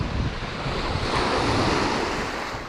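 Lake waves wash steadily at a wild fishing spot, a loud continuous surf-like rush with heavy wind buffeting the microphone throughout and no pauses.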